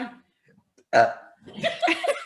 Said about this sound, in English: Haunted burp. Yeah, that's mine.